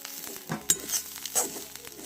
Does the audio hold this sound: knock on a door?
no